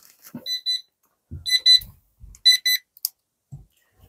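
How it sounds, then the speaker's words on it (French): An alarm clock rings in three short bursts of rapid, high electronic beeps, each a quick pair or cluster, separated by silence, close and clear. "Ah, j'avais mis un réveil."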